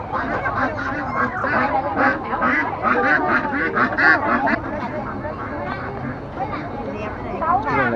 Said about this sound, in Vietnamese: Đây là vịt này.